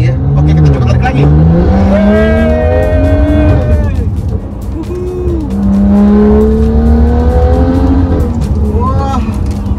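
A BMW F32 435 accelerates hard, its engine note rising steadily through the gears with a loud, near exhaust roar and brief dips at shifts, while people inside the car talk over it.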